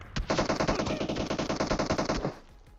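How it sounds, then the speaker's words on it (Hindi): Rapid automatic gunfire in the PUBG Mobile battle-royale game, a loud continuous burst of tightly spaced shots for over two seconds before it cuts off, with no voices. "ये लोग न जाने कहां कहां से गोलियां पेल रहे हैं"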